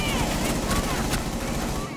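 Rapid video-game gunfire rattles in dense bursts across a loud, busy mix, with voices talking over it.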